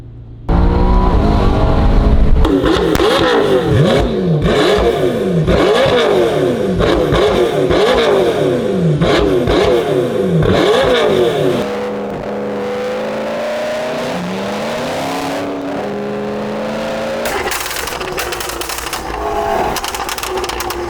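A 2020 McLaren GT fitted with a new straight-pipe exhaust revs hard, its engine rising and falling in repeated loud sweeps and then holding a rough, throaty drone before climbing again, close by and with no talking.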